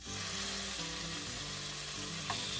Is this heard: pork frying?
yes